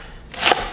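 A kitchen knife slicing red cabbage on a cutting board for sauerkraut, quiet at first, then one sharp close crunching cut rising to a louder scrape.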